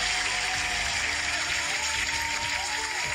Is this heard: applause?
yes